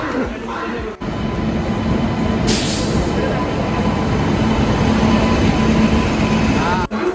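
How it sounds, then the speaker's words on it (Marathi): The Konkan Kanya train pulls into a station on a trip to Goa. A loud, steady broadband rumble runs nearly unbroken for the whole stretch, with brief dropouts near the start and end, and faint voices in the background. "आता काहीच वेळात कोकण कन्या ट्रेन येणार आहे"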